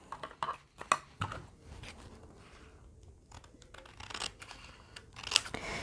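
Scissors cut through paper for a no-sew journal pocket, a quiet series of close, crisp snips and rustles with short pauses between cuts.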